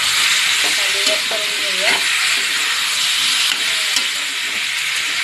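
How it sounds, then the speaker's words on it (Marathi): Chopped ivy gourd (tondli) fries in a hot pan and is stirred, giving a loud, steady sizzle with a few scraping stirs early on. A short spoken phrase rises over the frying near the start. "आपण आता याच्यामध्ये टाकूया हे कापलेली तोंडली"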